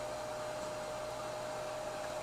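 A hair dryer flash-drying paint on small bass fishing baits gives a constant, close whooshing blow with a steady motor whine, uninterrupted and without speech.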